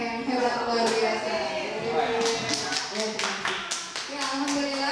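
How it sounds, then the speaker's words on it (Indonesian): Participants at a presentation event clap for the speaker, a scattered round of individual hand claps mixed with murmuring voices, sharper claps clustering toward the end. "kita beri tepuk tangan dulu untuk narasumber yang hebat luar biasa"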